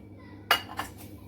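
One and a half bowls of peanuts tumble into a metal kadhai for roasting, giving a quick, quiet burst of clinking and rattling in two or three short strikes.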